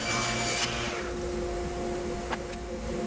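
A saw cuts through a small scrap of ash wood salvaged from a hundred-year-old piano, shaping it into a blank. It makes a steady, close rasping drone with no pauses.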